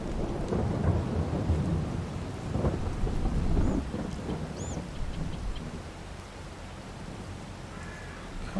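Heavy rain pours continuously in a farming video game while thunder rumbles, with a louder roll swelling midway before easing back into the steady downpour; no voices.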